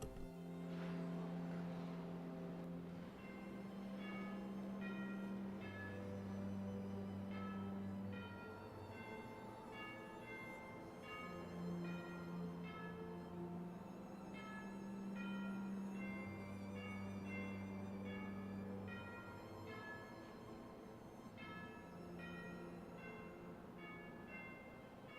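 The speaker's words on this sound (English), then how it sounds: "Senate will observe a moment of silence and the chimes will ring." Chimes ring slowly in the Colorado Senate chamber during a moment of silence, a long sequence of clear, resonant tones with lingering overtones, soft and unhurried with no talking.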